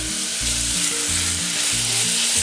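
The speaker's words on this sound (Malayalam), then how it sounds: "അപ്പോൾ സവാള ഒന്ന് വഴന്നു വരണം." Onions sautéing in a pan for a quick chicken curry. A loud, close, dense sizzle holds steady throughout with no voice, over a faint low background tone.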